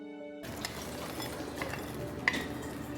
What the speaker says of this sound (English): To continue, you would just now add your okra.